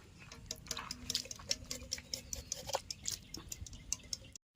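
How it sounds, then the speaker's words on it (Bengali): Saffron-soaked milk mixed with kewra and rose water being drizzled over layered chicken biryani rice, soft trickling and dripping splashes in a fast ticking rhythm, close and quiet, stopping abruptly near the end. "জাফরান ভেজানো দুধে কেওড়া জল, গোলাপ জল দেওয়া জলটা দিয়ে দেবো রাইসের ওপর দিয়ে"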